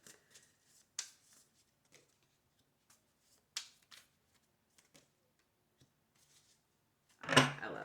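Tarot cards are handled in a quiet room: sparse, soft clicks and taps as single cards are drawn, then a brief, louder riffle of shuffling near the end.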